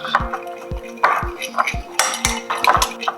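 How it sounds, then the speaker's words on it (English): Spoon stirring food coloring into coconut milk for mango sticky rice, with repeated clinks and scrapes against a bowl at a steady, close rhythm. "And then we're gonna mix it so it's well incorporated."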